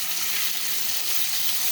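Pork steaks fry in a pan with a steady, even sizzle that hisses continuously and close by, with no talk over it.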